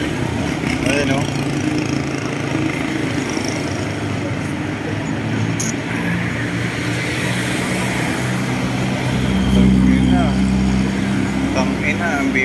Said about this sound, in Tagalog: Grabe, ang bibilis ng mga sasakyan dito, oh.